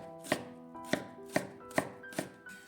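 A kitchen knife slices radish into thin shreds on a cutting board, five evenly spaced crisp chops with a woody knock, close up and alone with no speech.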